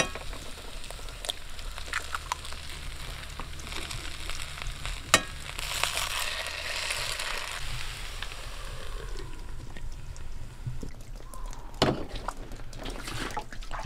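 Eggs cooking in potato hash in a cast iron pan at a campsite give a steady, close frying sizzle with scattered pops and clinks of a utensil or lid throughout.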